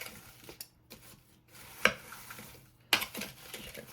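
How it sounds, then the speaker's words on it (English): Apples, Granny Smith and Gala, being stirred with cinnamon in a bowl, giving a few sharp spoon clinks against the bowl among soft scraping, moderately close and quiet. "I'm going to stir this first."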